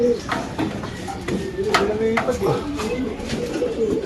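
Pigeons cooing in low, throaty murmurs, repeated close by, with voices talking over them and occasional clattering.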